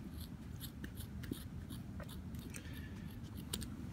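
Scissors snip repeatedly through the knit fabric cage of an Adidas Tubular X sneaker, a steady series of small crisp cuts close by against a low background rumble.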